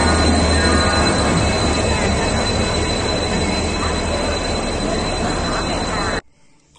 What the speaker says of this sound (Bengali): ট্রেন আমাদের প্ল্যাটফর্মে ঢুকে গেছে।